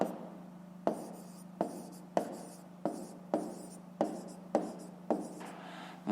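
Chalk or pen strokes while writing out a fifth-grade math solution, a steady series of about eight sharp taps and scratches at regular intervals over a constant low hum, close and fairly quiet, with no talking.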